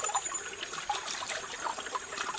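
Water runs in a steady, hissing trickle, close and fairly even with small splashing fluctuations, heard alone without talk.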